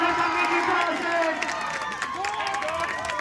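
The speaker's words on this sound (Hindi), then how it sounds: "पूरा स्टेडियम तालियों से गूंजता हुआ" Dense stadium crowd at a semi-final kabaddi match, applause and cheering swelling as a steady, loud roar with shouted voices mixed in throughout.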